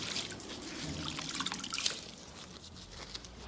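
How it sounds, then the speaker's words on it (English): Water drips and trickles from a wrung-out microfiber cloth into a basin of warm rinse water, close and fairly quiet, in irregular spatters with no talking. "wring out the cloth and rinse."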